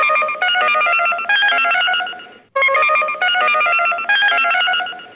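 A telephone rings for a collect call, two long, loud electronic ringing bursts with a brief gap between them, close and alone.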